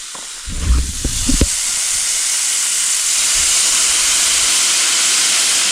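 Balsamic vinegar hits a hot pan of berries with a brief burst of bubbling, then settles into a loud, steady sizzling hiss that carries on alone to the end.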